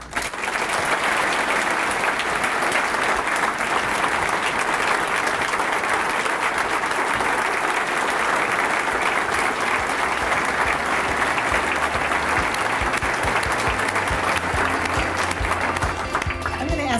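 Sustained, dense applause from a large crowd at an awards ceremony, loud and steady throughout, with a faint voice beneath near the end.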